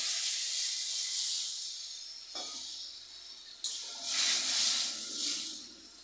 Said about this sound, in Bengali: মশলা কষাই করা হয়ে গেছে, এবার আমি দিয়ে দিচ্ছি জল।